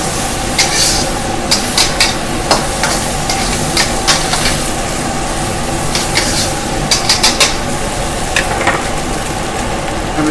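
Noodles for pad see ew are stir-fried in a hot pan, giving a loud steady sizzle punctuated by rhythmic scrapes and clacks of a spatula, close up with no talking.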